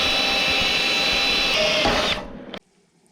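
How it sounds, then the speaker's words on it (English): A loud power drill whines steadily as it bores into the metal of a sub-compact tractor grapple, then slows and cuts off, leaving near silence. "We'll drill this side out and it should be good."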